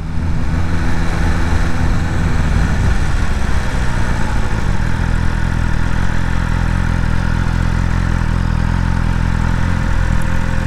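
A 2022 BMW M1000RR motorcycle engine runs close by ahead of a launch control start, a loud rough rumble that rises briefly in revs, then settles into a steady idle.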